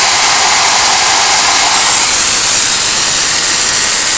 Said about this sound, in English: I have the dryer on high.